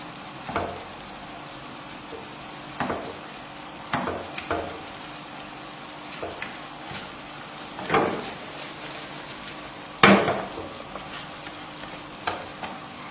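Honey garlic chicken cooking in a pan with garlic and honey, giving a low steady sizzle broken by occasional stirring scrapes and clatters, one sharper knock near the end; no talking.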